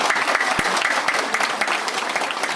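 Crowd at an Indonesian political campaign gathering clapping together, loud and close, a dense patter with several sharp individual claps popping out over the steady applause.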